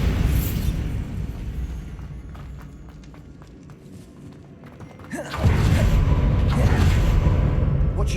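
Bombarda explosion spell in Hogwarts Legacy: a loud, sudden burst erupts partway through, and a dense, roaring blast continues to the end over steady game background noise.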